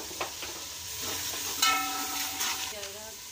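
Spices frying with coriander and turmeric in a pan, a steady close sizzle with a spoon scraping and stirring through it, a few brief clinks standing out.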